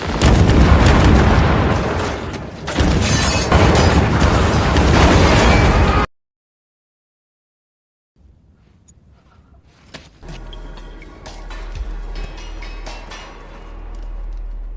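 Landmines detonate in a chain across a minefield in a 2001 war film scene: about six seconds of loud, dense blasts and rumble, a sudden silence, then a lower roar of debris and lingering rumble.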